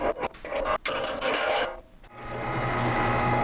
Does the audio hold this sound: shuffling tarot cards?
no